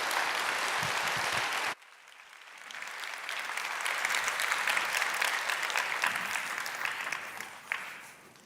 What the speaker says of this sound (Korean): 제 아내를 위해서 여러분 격려의 박수를 좀 해주시기 바랍니다